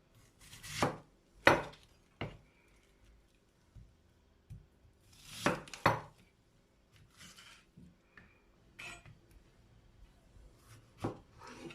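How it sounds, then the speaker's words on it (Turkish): Irregular knife chops strike a cutting board while roughly chopping ingredients for a tray kebab, some sharp and loud, others softer, separated by quiet pauses, with no talking. "bütün malzemelerimizi şöyle kabaca doğradık"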